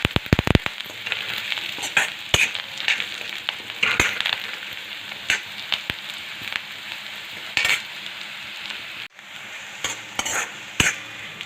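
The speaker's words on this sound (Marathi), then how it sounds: "ते मस्त कांद्यामध्ये आणि तेलामध्ये परतून घ्यायचे आहे" Coriander and chopped onion frying in oil in a pan while being stirred, giving a steady close sizzle broken by frequent scraping stir strokes and light clinks, with no voices.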